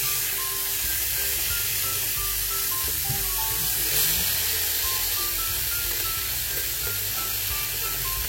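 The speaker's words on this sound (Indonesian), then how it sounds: "ini kita akan bakar kembungnya. Kita bakar di teflon ya seperti ini ya" Mackerel grills in a Teflon pan over medium to low heat, giving a steady, close, continuous sizzle and hiss with occasional faint spatters. No one speaks.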